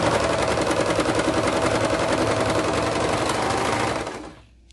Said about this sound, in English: so we're here at the serger